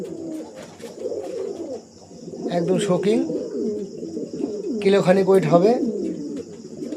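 King pigeons cooing in low, throaty bursts, the calls swelling midway and again near the end, with someone speaking over them throughout.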